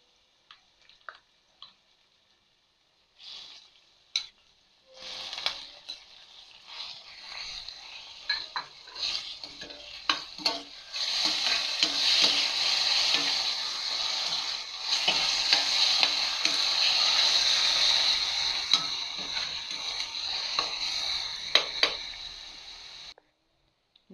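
Ground pork frying in a pan for ginataang santol, a steady loud sizzle with repeated scraping stir strokes that builds after a quiet start and fades out at the end.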